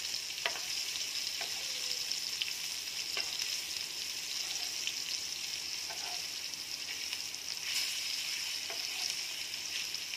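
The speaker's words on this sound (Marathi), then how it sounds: "आता ही दोन्ही बाजूने आपण तळून घेणार आहोत" Prawns shallow-frying on a tawa, a steady soft sizzle with occasional crackles and light clinks, quiet and continuous with no talking.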